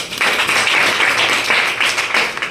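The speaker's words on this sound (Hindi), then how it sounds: "ताली बजाओ इनके लिए" A classroom group applauds, a loud, dense burst of many hands clapping close by that holds steady for a couple of seconds.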